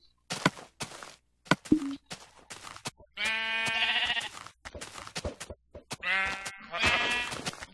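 Sheep in Minecraft bleating twice in long wavering cries, mixed with scattered short knocks, thuds and footsteps from the game.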